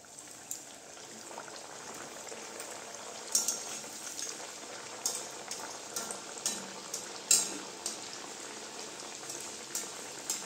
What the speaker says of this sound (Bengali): যে কড়াইতে আমি সাদা তেল দিয়ে দিয়েছি, তেলটা গরম হয়ে গিয়েছে, এর মধ্যে আমি দিয়ে দিচ্ছি এই দেখেন বানিয়ে রাখা কচুরিগুলো